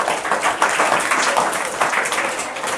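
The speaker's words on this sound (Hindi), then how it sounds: "जोरदार ताली बजाइए।" Audience at a Teachers' Day event claps loudly, a thick continuous burst of applause with many hands, close and sustained throughout.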